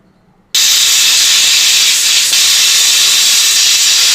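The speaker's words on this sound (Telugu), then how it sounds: "మీడియం ఫ్లేమ్ మీద 3 విజిల్స్ వచ్చేంత వరకు పెట్టుకుందాం." Pressure cooker on a stove over medium flame, cooking dal with bachali leaves, releasing a loud, steady hiss of steam that bursts in abruptly after a brief quiet moment and continues unbroken at close range.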